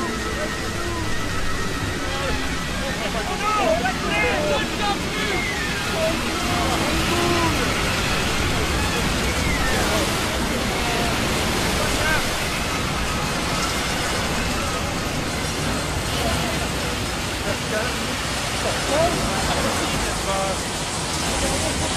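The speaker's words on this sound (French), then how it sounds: "Les vagues sont trop fortes!" Stormy sea waves crash and roar in a dense, constant wash of water noise on a boat in a storm, loud and unbroken throughout.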